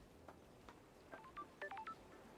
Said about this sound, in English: That's a phone. That's a phone!